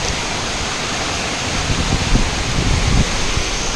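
Cold waterfall water splashes and roars at a cachoeira, a steady, loud, full rush that swells slightly in its second half, with no voices over it.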